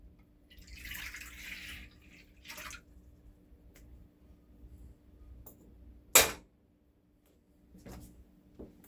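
Warm water, heated to about 110 degrees on a burner, is poured into a mixing bowl to start a Dutch oven bread dough: a short, soft splashing pour near the start, followed later by a single sharp clunk.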